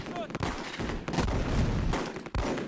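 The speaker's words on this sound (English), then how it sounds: "Oh, there's an MG42 there." MG42 machine gun in the WWII strategy game Close Combat, dense rattling bursts of fire mixed with booming impacts, loud and continuous with short gaps between volleys.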